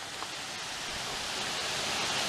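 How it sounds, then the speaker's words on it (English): A distant waterfall seen on a hike gives a steady, even broadband rush, soft and continuous throughout with no talk over it. "Look at that waterfall."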